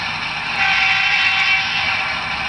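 A steady, loud air horn sounds from a Broadway Limited N scale GE AC6000CW model locomotive's sound system, holding one sustained chord for a couple of seconds with no other sounds.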